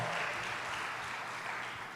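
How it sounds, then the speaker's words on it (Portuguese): Church congregation applauding during a worship service, a steady, dense wash of many hands clapping at moderate volume that fills the whole stretch without pause. "Você pode aplaudir Ele mais uma vez bem forte?"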